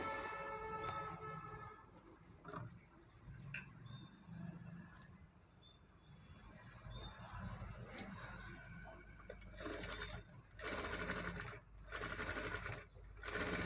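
A sewing machine stitches around the neck of a frock made from a saree, running in uneven bursts with pauses, ticks and clicks of the mechanism, fairly quiet and close.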